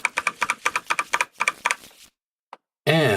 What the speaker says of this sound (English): We're going to go ahead and give this a few shuffles.